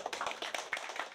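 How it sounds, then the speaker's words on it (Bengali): A group claps for officers in brief, quiet bursts of scattered hand claps. "আমাদের অফিসারদের জন্য একটা সবাই করতালি দেন সবাই।"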